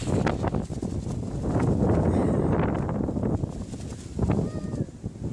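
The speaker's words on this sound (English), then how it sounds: "It'd be nice if our wind was more consistent." Outdoor wind buffets the microphone in a steady, loud roar with gusts that swell and fade.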